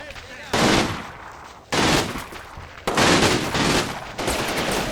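Machine gun fire in the WWII tactics game Combat Mission Final Blitzkrieg: three long, loud, close bursts of rapid fire with short pauses between them, and quieter firing carries on underneath.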